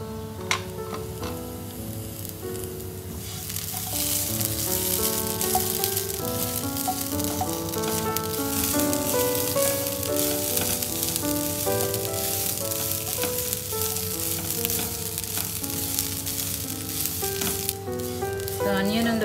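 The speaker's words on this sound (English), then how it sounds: "Onion as well as the garlic along with the coconut and dry roast it lightly." Onion, garlic and coconut dry-roast lightly in a pan for Mangalorean-style methi pathrade, giving a soft continuous sizzle with occasional stirring clicks beneath steady background music.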